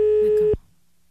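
A steady telephone line tone heard while calling France 2 sounds once as a single loud, clean beep lasting about half a second, then cuts off into near silence.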